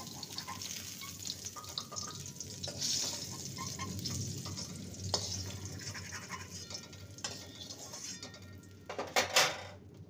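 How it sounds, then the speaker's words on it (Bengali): Potatoes frying in a pan give a soft, steady sizzle with stirring scrapes, then a brief louder clatter of utensils and pan near the end, no talk. "আলুটা ভাজা হয়ে গেছে, দেখতেই পাচ্ছেন।"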